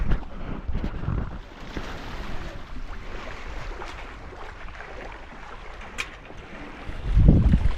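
A sailboat moves under wind near a reef off Fiji, with steady wind rush over the microphone and water washing along the hull, plus a louder gust or splash at the end.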